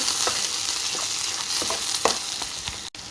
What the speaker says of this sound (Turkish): Böyle birazcık salça ekliyorum